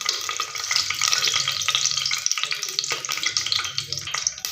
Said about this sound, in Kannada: ಸ್ವಲ್ಪ ಚೆನ್ನಾಗಿ ಎಣ್ಣೆಯಲ್ಲಿ ಫ್ರೈ ಮಾಡ್ಕೊಳ್ಳೋಣ.